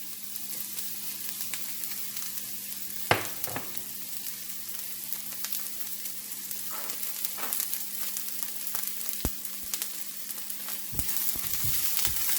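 Onions fry in a little avocado oil in a hot Ninja Neverstick skillet, giving a steady close sizzle with scattered pops and occasional clinks and scrapes as they are stirred.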